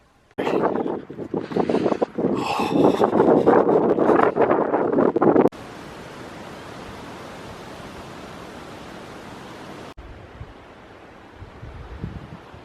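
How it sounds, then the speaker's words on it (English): Strong, freezing wind on an exposed hilltop before sunrise roars and buffets loudly against the microphone for several seconds, then drops abruptly to a softer, steady rush with faint low rumbles. "It's absolutely fucking freezing. That wind."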